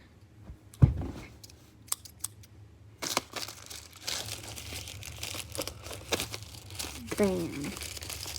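Packaging for an unboxing is handled and cut with scissors: close, quiet crinkling and tearing of plastic with a few sharp snips and clicks, growing busier and more continuous in the second half.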